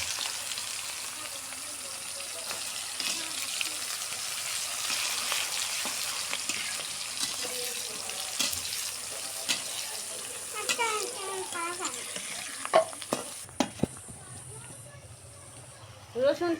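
Chopped onion hits hot oil with cinnamon, cardamom and bay leaf, frying with a continuous crackling sizzle. Some talk is heard, and near the end there are sharp clatters before the frying drops away.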